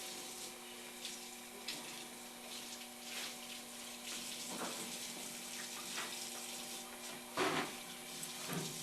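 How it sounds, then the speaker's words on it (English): A sponge is rinsed under a running tap, with a steady quiet stream of water and occasional louder splashes and swishes as it is squeezed and moved, no talking. "You just have to rinse the sponge out really well."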